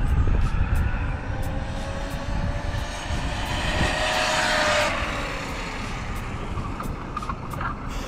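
Sur-Ron electric dirt bikes fitted with different controllers accelerate together from a standing start in a race, a steady high-pitched whining drone with rushing noise that swells briefly midway, heard alone without talk.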